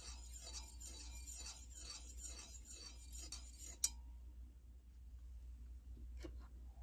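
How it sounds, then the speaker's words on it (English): A spoon stirs lemonade in a glass pitcher, a rapid series of light clinks and scrapes for about four seconds, ending in one sharp clink, followed by quiet with a couple of faint taps. "and give that a stir."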